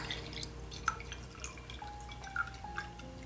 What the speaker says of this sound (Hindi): इसमें 1 गिलास पानी डाल देना है